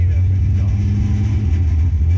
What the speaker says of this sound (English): It does run a little rough, and it does have a rattle.